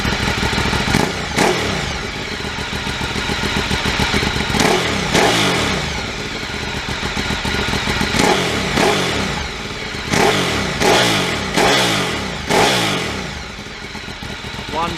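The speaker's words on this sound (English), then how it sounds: "So we'll just give the throttle a blip so you can hear the exhaust." Ducati 848 Evo V-twin motorcycle exhaust revved in repeated throttle blips, each rising to a loud throaty bark and falling back to a lumpy idle, close and continuous throughout, with a person talking over it.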